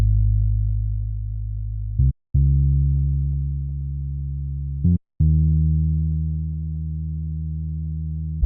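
Deep 808 bass line from an FL Studio beat remake, sustained booming notes with a rich harmonic tone, separated by two brief gaps, loud and alone with no other instruments.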